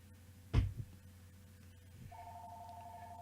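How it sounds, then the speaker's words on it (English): A telephone rings in the video game Danganronpa: Trigger Happy Havoc, a faint steady electronic tone that starts after a soft thump and holds alone over a low hum. "And the phone's ringing."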